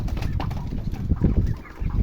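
Chickens clucking and squawking close by in an open-system coop, a busy cluster of short calls over a low rumbling background.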